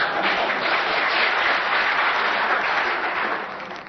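Audience applause during a debate on US foreign policy, a thick, continuous wash of many hands clapping at a steady level that eases slightly at the close.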